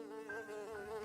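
A cartoon housefly buzzes around a king, producing a steady, thin, high-pitched drone that wavers slightly in pitch, heard faintly and alone.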